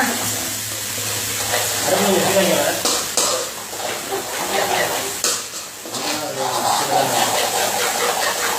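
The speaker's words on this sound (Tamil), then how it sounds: "இதை நல்லா வதக்கணும்" Food sautés in a pan with spice powder added, a continuous close sizzle with scraping stirs, while someone talks over it throughout.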